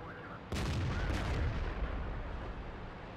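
A tank cannon fires in World of Tanks on the Erlenberg map: one sudden loud boom at about half a second, with a rumbling roll-off that lingers to the end.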